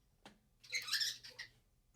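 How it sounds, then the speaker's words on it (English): A pet bird gives a short, shrill squawk after a faint click, close and fairly quiet, a single harsh call with a brief trailing chirp. "My bird's gonna sign off for me."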